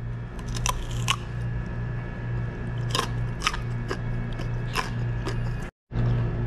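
Crunchy food being bitten and chewed close to the mic, with sharp crisp crunches at irregular intervals over a steady low hum, ending in a brief dropout.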